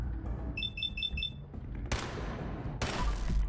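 Gunfire in the Fallout 4 video game during a raid on a stockpile: a short burst of game alarm beeps followed by two sharp, loud shots about a second apart over a steady game background.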